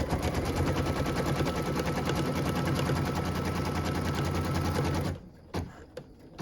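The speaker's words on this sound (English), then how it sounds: "What we're stitching now is the tack down line for piece number 9" An embroidery machine stitches a tack-down line on fabric stretched in a hoop, a rapid steady mechanical rattle running for about five seconds, then stopping, followed by a few faint clicks.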